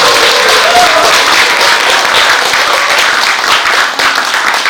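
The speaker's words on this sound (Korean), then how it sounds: "이때 박수 쳐요." An audience at a Buddhist book launch dharma service claps, a dense, loud, continuous burst of applause with no one speaking over it.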